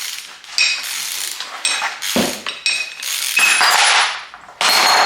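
A ratchet wrench works loose the top mount bolt on an Audi, giving bursts of close metallic clicking and clanking with short pauses, loud and alone.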